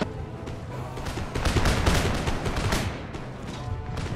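Line infantry in Empire: Total War fire a rolling musket volley, a dense crackling fusillade of many overlapping shots that swells to a loud peak and then thins, with distant artillery booms underneath.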